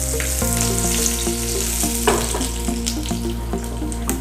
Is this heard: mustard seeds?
yes